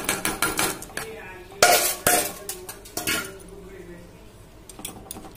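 Rice tipped into a pot of boiling milk for kheer and stirred, with repeated metal clinks and scrapes of a spoon against the pot, loud clattering bursts early and quieter stirring afterwards, no talking.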